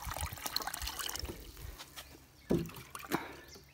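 Water is poured into a plastic bottle at a beach campsite, an uneven trickle and gurgle with a couple of louder splashing glugs, close by and without talk.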